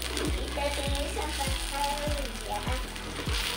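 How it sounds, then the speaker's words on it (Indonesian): Grated toasted coconut and turmeric sautéing in a pan, a steady close sizzle with a spatula scraping and tapping the pan in a regular rhythm. "Lalu kelapa gongseng dan kunyit. Kita tumis sampai harum ya."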